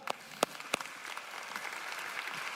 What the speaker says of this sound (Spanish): eso merece un fuerte aplauso